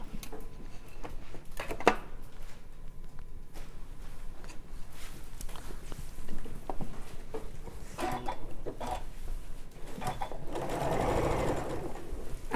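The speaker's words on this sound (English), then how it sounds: "Okay, then you're just going to sew 1/4 inch." A sewing machine stitches a quarter-inch seam on a quilt patch, its rapid needle chatter running steadily and close, with occasional pauses, handling clicks and fabric rustle.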